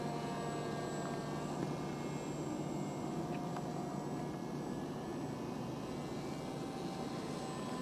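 A Pilatus Porter aircraft drones through a steady, faint flyby, its engine hum constant and distant under wind-like background noise with no voices.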